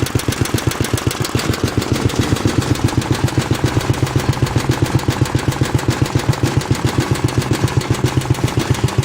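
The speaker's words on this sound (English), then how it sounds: "That's where I have it idling right now." An S-17 tractor's pull-started engine, a unit taken off a Speedex, idles with a loud, steady, rapid chugging beat that holds an even rhythm throughout, with no talk over it.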